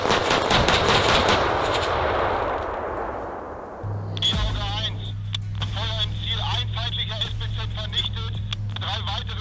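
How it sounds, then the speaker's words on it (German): A German Eurofighter Typhoon's onboard cannon fires during an air support training exercise: a loud, dense roaring burst rolls over the first four seconds, then gives way to steady radio-style chatter and a droning tone. "Daher weist er die Piloten an, die Bordmaschinenkanone einzusetzen."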